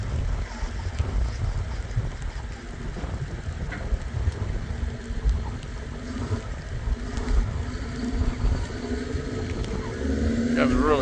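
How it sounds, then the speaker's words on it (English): Strong, gusty wind blasting across a landfill, a continuous rough roar buffeting close with faint rumbles beneath, steady for several seconds and swelling toward the end. "Got a really strong wind blast in here"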